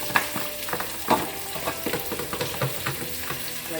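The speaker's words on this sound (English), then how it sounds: "now we are going to saute all the other ingredients." Chopped onions sizzle and crackle in a hot pan for a leek mushroom soup, with a spoon scraping and stirring at irregular intervals, close and steady, with no talk.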